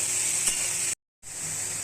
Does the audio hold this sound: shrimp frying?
yes